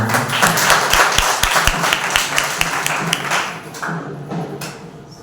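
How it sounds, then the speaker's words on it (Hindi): A church congregation at a Sunday service claps loudly together, a dense sustained wash of hand claps with a few sharp individual claps standing out near the front, thinning slightly toward the end. "आइए एक बार पवित्र परमेश्वर के लिए जोरदार तालियां"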